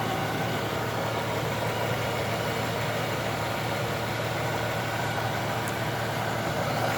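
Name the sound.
Jeep YJ engine idling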